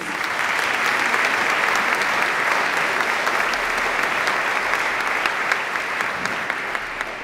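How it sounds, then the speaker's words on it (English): A steady, full round of applause from an opera audience at a college production of Mozart's The Magic Flute, even and continuous throughout with no talk. "So a big um, round of applause for them too, please."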